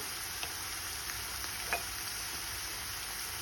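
Potatoes and onions fry with a soft, even sizzle at low level, with faint stirring clicks as garlic paste goes into the pan.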